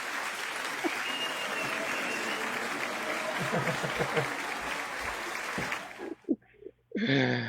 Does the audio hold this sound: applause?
yes